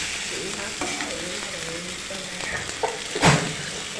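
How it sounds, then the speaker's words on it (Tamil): Mango and rice stir-frying in a pan, with a constant sizzling fry and repeated scraping spatula strokes that build to a louder clatter near the end. A voice is faintly present in the background. "மாங்காய் நல்லா வேகிற வரைக்கும் நல்லா கிண்டி விடணும்."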